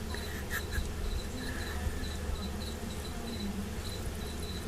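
Crickets chirp in a pet lizard's enclosure, a steady series of faint high-pitched pulses repeating over low indoor hum, with a few brief clicks and rustles.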